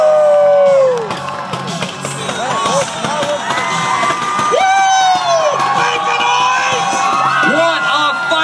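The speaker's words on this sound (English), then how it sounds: "Let them hear you make some noise." A crowd at a 2016 ice festival in Richmond, during an ice-sculpting fights night, cheers, whoops and shouts continuously, with children's shrill yells and whistles rising over the roar.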